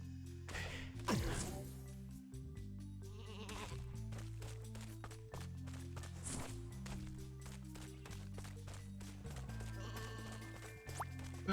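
Sheep bleating in the video game Skylanders: Swap Force, set against continuous game music with busy effects; the bleats are brief and partly buried in the score.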